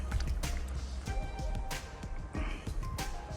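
Soapy, foamy water trickles slowly into a four-litre windshield washer fluid container, a soft, close gurgling and splashing with small irregular drips and bubbly squelches throughout.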